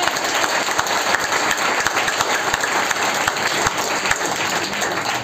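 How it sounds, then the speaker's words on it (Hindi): A crowd breaks into applause, dense and continuous clapping that stays at an even, fairly loud level for several seconds with no voices standing out. "इतना बढ़िया काम यार, तालियां तो बनती है।"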